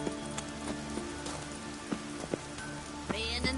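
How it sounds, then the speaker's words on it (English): Rain falling in the Witcher 3 video game, a steady hiss of droplets with a few sharper clicks and taps over a low ambient hum. "Raining again."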